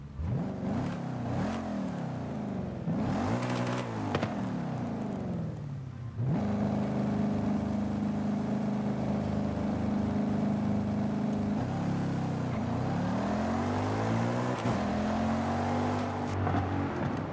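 A car engine in the Forza Horizon 5 racing game, shown with an automatic seven-speed dual-clutch gearbox in a stock wagon, revs up repeatedly with quick rising sweeps broken by crisp gear shifts, then settles into a sustained drone, loud and close, without speech.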